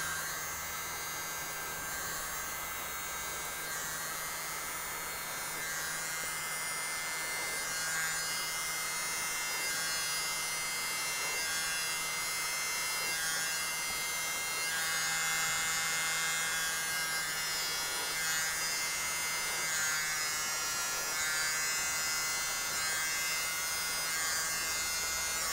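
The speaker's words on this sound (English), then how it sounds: "grab my mini blower, which is this little dude. Plugs in it with USB. And turn that on." A small USB-powered mini blower runs steadily for the whole stretch with a thin, high-pitched electric whir and buzz, close and constant with slight wavering as it is moved over paint.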